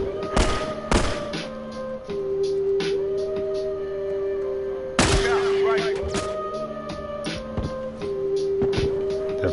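Frontier rifle fire in The Last of Us booms in a few heavy thuds, set against a droning game soundtrack with a voice talking.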